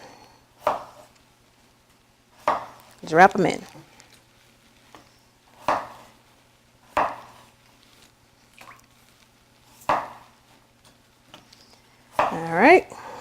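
A knife chops food for a home cooking pot in a kitchen, landing as sharp, spaced strikes roughly every second or two, with a person talking between the cuts.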